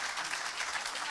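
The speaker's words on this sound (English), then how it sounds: "let's have a round of applause." Brief burst of audience applause at a Queen's Award presentation by the UK Prime Minister, a short, even wash of many hands clapping at moderate loudness.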